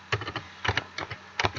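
A computer keyboard is typed on during data entry in Excel, giving quick clusters of close, crisp key clicks in three short bursts with no talk.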